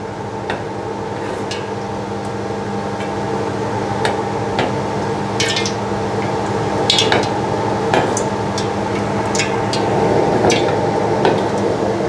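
Fish fries in hot oil, sizzling and crackling steadily, punctuated by scattered clinks and scrapes of a utensil against the pan, with no talking.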